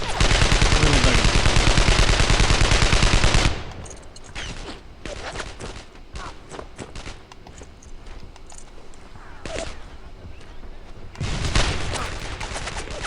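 Enemy gunfire and mortar fire erupt in the World War II shooter Brothers in Arms: Earned in Blood. A dense, roaring barrage opens, drops to scattered shots and thuds, then swells into a heavy fusillade again near the end.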